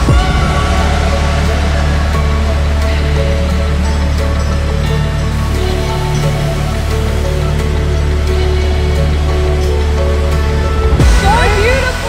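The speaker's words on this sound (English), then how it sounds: "Look how sick this waterfall is" A waterfall pours in a steady, loud, close roar of rushing water that holds evenly throughout and shifts slightly near the end.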